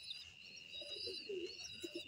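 A pigeon coos softly at close range in a quiet space. A few short, low, throaty coos sit under a faint steady high-pitched hum.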